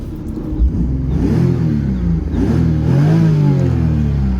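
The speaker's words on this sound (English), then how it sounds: "Let's give her a rev and see what she sounds like" Stock 6-cylinder engine of a 1999 BMW 328ic E36, close and loud, revving up from a warm idle in two rising pulls with a deep, smooth rumble.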